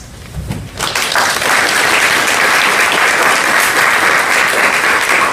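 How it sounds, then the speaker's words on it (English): Applause at a congressional taskforce briefing starts after a brief quieter moment, then swells into loud, sustained clapping from the room that continues evenly to the end. "Let's give one more big round of applause for all our panelists"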